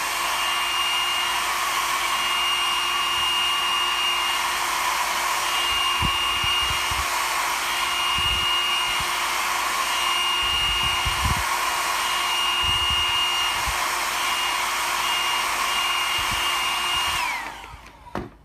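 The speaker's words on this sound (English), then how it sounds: "I don't have a heat gun, so I'm using a blow dryer" A blow dryer heats a sticker on a Namco Museum arcade cabinet to loosen its glue. It whines loudly and steadily for about seventeen seconds, with occasional low knocks and handling bumps, then switches off and winds down.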